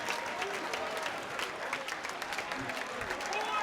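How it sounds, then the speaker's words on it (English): Boxing crowd at a fight giving a standing ovation, steady dense applause and cheering filling the arena at moderate distance without letup. "Look at this crowd, a standing ovation for these guys."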